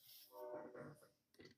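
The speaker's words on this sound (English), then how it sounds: "You can hear the train going by." A train rumbles past at night, heard faint and distant as a soft, uneven low roar with a brief surge near the end.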